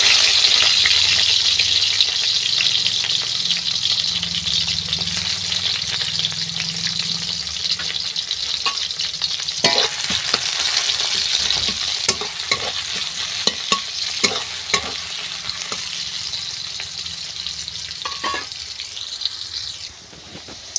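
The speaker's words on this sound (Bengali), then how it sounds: "কড়াইতে পেঁয়াজ আর কাঁচা লঙ্কা দিয়ে দিলাম" Sliced onions and green chillies frying in hot oil in a wok, a steady close sizzle with repeated scraping and clattering of a spatula as they are stirred, no talking.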